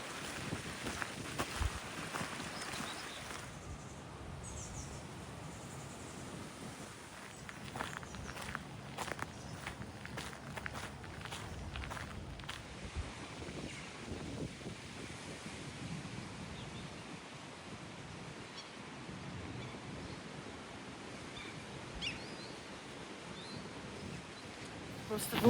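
Strong wind buffets the microphone on the Helsinki waterfront at Katajanokka, a steady rough roar with gusts, mixed with footsteps and faint water sounds under someone talking.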